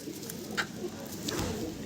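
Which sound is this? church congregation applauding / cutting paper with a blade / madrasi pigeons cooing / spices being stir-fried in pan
madrasi pigeons cooing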